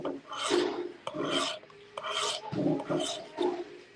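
A knife blade bevel is touched up on a sharpening stone in short rasping strokes, about seven scrapes with brief pauses between them, close and clear with no talk.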